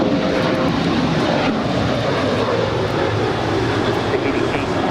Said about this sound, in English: This is United Airlines Flight 608 departing to Vancouver. It's a 737-800.